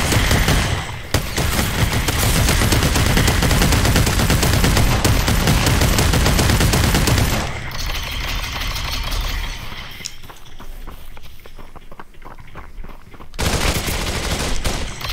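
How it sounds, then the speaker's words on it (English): Loud, dense gunfire from the video game Population: One, a shotgun among sustained bursts that fill the first half, then a quieter stretch before heavy firing returns near the end. "He's got a shotgun."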